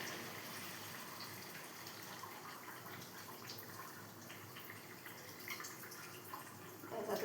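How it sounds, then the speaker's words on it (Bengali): Hot water poured from a container into a pot of chicken curry with meat pieces and potatoes, giving a steady close splashing gush that runs for several seconds, with a brief louder burst near the end. "এবার আমি জল গরমটা দিয়ে দেবো পরিমাণ মতো, পুরোটা দেবো না, কতটা হয়।"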